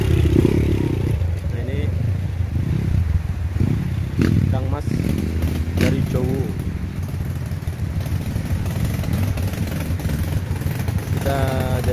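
A trail motorcycle labours up a steep forest track in the jungle, its engine droning and revving under nearly continuous excited talk and shouting nearby.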